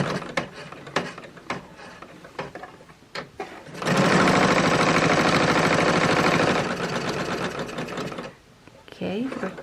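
Sewing machine stitching around a quilted coaster, a loud steady mechanical whir for a few seconds between scattered clicks and handling sounds, with a voice talking around it.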